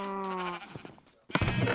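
Minecraft sheep bleat on a colored sheep farm in the game: one clear, drawn-out bleat, then a short pause and a second louder bleat, close and alone.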